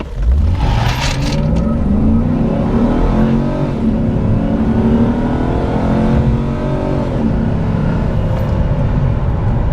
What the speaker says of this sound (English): Let's stop, and I'm just gonna hit the accelerator.